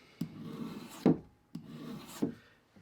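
A single-bevel broadhead edge is stroked across a sharpening surface in slow, even rasping passes, four scraping strokes close up with brief pauses between them.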